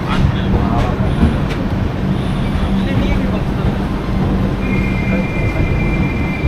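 12622 Podhigai SF Express train arriving at Virudhunagar station: a loud, steady rumble of rolling wheels and carriages with faint squeals and a high tone later on, while people talk nearby.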